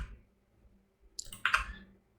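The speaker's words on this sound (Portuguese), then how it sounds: "E agora eu vou digitar aqui no meu teclado a letra A" A few sharp clicks from a computer keyboard as the letter A is typed, two brief keystroke bursts close together in an otherwise quiet room.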